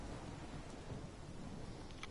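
A thunderstorm in the video game Life Is Strange rumbles as a dense, steady wash of rain and low thunder, continuous and moderately quiet, without voices.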